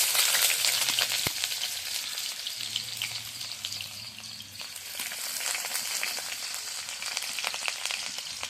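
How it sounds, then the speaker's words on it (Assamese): Onions frying in hot oil in a village kitchen pan, a strong steady sizzle and crackle with occasional scraping pops, heard close and alone. "গৰম হৈ যোৱাৰ পাছত পিঁয়াজ দি দিলোঁ।"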